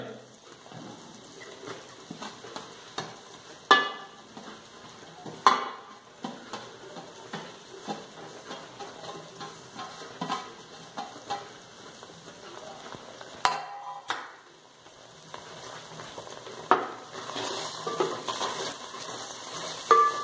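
Grated coconut cooking with jaggery in a pan for the East Indian sweet Khapshyo, a quiet low sizzle broken by recurring scraping and knocking strokes of a spoon stirring the mixture.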